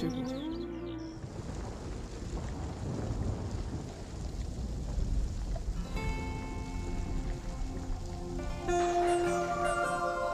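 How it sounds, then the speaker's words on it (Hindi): The first monsoon rain falls on Mumbai as a dense, continuous hiss of heavy rain, with low rumbles like thunder, and music rising over it in the second half. "अर्चना, मानव, मुंबई की पहली बरसात"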